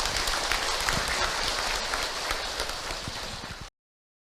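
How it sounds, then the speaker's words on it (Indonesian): An audience at a religious talk claps again for the speaker, a steady, fairly quiet patter of many hands that carries on without talk and then cuts off abruptly. "boleh tepuk tangan sekali lagi untuk Hilman Ibu"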